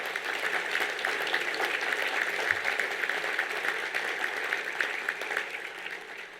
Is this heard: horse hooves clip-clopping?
no